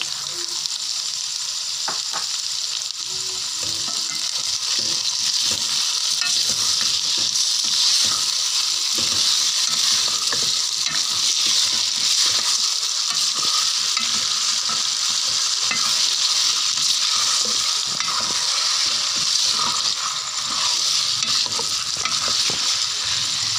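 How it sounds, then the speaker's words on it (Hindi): Chicken fries in a pan with pumpkin for a halwa kaddu dish, a dense, steady hiss and crackle of hot oil with frequent stirring clicks, close and continuous with no talk. "अब इसमें मैं चिकन डालने जा रही हूँ"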